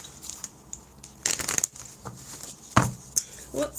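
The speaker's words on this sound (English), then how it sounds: "so I'll just shuffle the tarot" Tarot cards being shuffled by hand in a series of brisk riffling bursts with soft slaps between them, close and fairly quiet, no talking over it.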